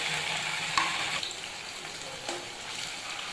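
Potato and poha triangles frying in a pan of hot oil give a steady, close sizzle with a few small clinks and bubbling bursts. No one talks.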